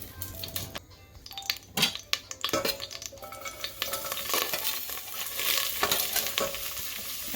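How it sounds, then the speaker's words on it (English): Onion and chicken sizzle and fry in hot avocado oil in a pan, a steady loud hiss broken by stirring scrapes and clinks of a utensil against the cookware. "when I put the meat in, it'll start to sizzle and saute."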